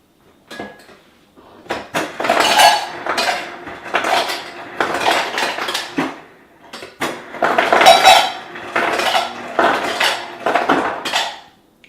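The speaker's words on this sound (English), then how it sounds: "first, we're gonna put some ice in our mugs" Ice cubes are dropped into mugs in a home kitchen, making repeated bursts of rattling, clinking clatter in close succession, loud and near, with brief pauses between handfuls.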